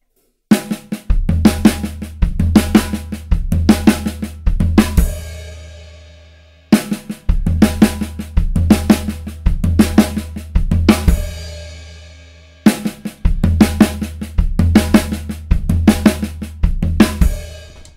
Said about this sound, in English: the next way we're going to fill this is 16th note triplets, so that would sound like this